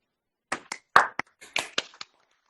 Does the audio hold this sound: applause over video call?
yes